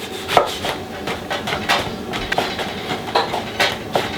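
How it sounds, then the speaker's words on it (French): A knife cuts bread into croutons on a board, sharp, crisp chops in a quick irregular rhythm, close and fairly loud with no speech. "Couteau coupe comme ça."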